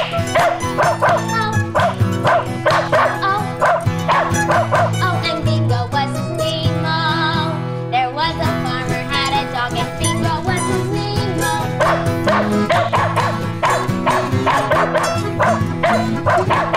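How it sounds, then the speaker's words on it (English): Cartoonish dog barks and yips repeat in rhythm inside a bouncy children's nursery rhyme song about a farmer's dog, loud and continuous over the backing music. "There was a farmer had a dog, and Bingo was his name."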